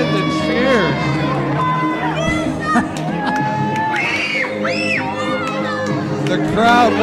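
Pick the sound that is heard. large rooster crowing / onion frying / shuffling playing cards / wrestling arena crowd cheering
wrestling arena crowd cheering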